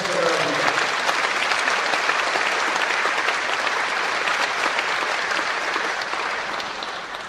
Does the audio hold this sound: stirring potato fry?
no